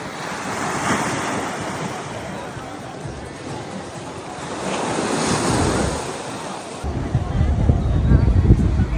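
Ocean surf and gusty wind at Crash Boat Beach in Puerto Rico, a continuous wash of breaking waves with heavy wind rumble on the microphone and faint voices in the background.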